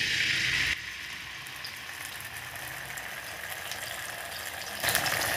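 Green chili and white and black mustard paste hitting hot oil, a loud hiss at the start that drops to a softer steady sizzle, then flares briefly near the end.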